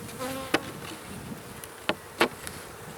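Honeybees buzzing close by while new colonies are installed into hives, a steady insect drone with a few sharp knocks and taps over it and no talk.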